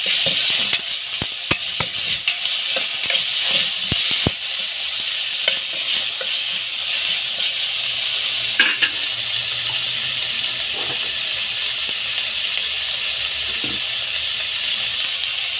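Chopped tomato with ginger and garlic sizzles and sautés in a hot pan for sorrakkai kootu, a loud continuous hiss broken by scraping stirs of a spoon, with no voices.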